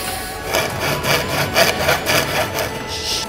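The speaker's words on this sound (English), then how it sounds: "Just cut in with a saw so that it will slot in" A hand saw cuts a slot into a wooden board in steady, rapid back-and-forth strokes, loud and close with no talking.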